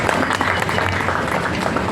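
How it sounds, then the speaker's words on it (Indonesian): Applause from an audience at an event just after a ceremonial cutting of a nasi tumpeng rice cone, a dense, steady patter of many hands clapping continuously throughout. "Boleh minta tepuk tangannya."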